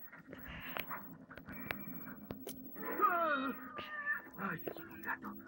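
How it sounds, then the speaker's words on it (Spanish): A cat meows a few times, a short clear call rising over quiet rustles and soft background voices. "Ay, es un gato."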